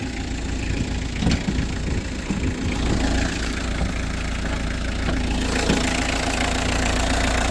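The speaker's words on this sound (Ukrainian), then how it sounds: "Чиста робота двигуна." A Fiat Scudo engine with 114,000 km idles steadily up close, a continuous low rumble with light mechanical ticking and no one speaking.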